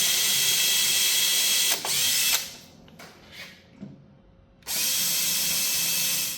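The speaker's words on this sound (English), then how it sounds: "I'm gonna drill a bigger pilot hole." A power drill bores a bigger pilot hole while refinishing outdoor benches, running loud and steady in two long bursts with a few ratcheting, mechanical clicks in the quieter gap between them.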